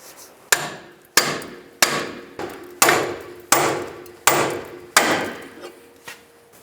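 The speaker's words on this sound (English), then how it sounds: "Now I'm going to use a pickle fork to separate the ball joint." A hammer strikes a pickle fork driven between the ball joint and steering knuckle of a 2005-15 Nissan Xterra's front upper control arm. Nine sharp metallic blows ring out at a steady pace, close and loud, with no talking.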